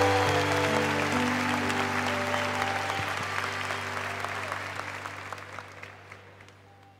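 Audience applause at a show honoring Monsignor Jonas Abib's 55 years of priesthood, with steady crowd clapping over a sustained musical chord that fades away gradually toward the end.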